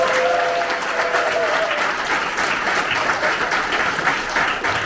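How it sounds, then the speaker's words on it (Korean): Loud, dense applause from a large crowd at an Incheon campaign gathering celebrating a presidential election win, steady and sustained throughout with a faint hum of voices mixed in. "우리 승리의 박수 한번 칩시다"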